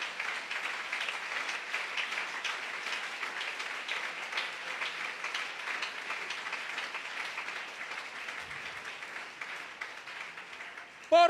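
A church congregation claps together during a vacation Bible week service, a fairly quiet but continuous wash of many hands, fading slightly toward the end before a brief louder bump.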